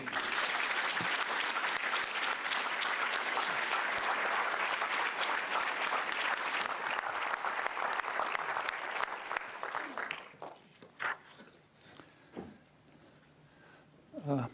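A lecture-hall audience claps warmly and steadily for about ten seconds to welcome Noam Chomsky, then the applause thins to scattered claps and rustling.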